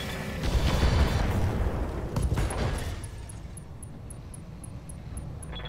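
SRM missile salvo launching in Roguetech BattleTech, a loud roaring burst of rocket fire with a few sharp cracks in the first half, fading into a quieter rumble with faint electronic beeps.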